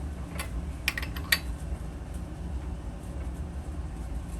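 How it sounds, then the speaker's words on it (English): A train rumbles past at a distance as a low, steady drone under a workshop where coin rings are crafted, joined by a few sharp metallic taps and clicks close by. "And yes, that was a train that just went by."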